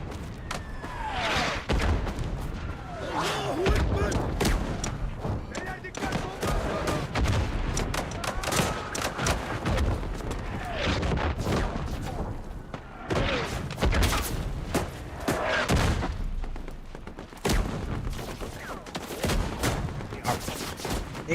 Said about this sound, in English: They are bombing the shit out of us.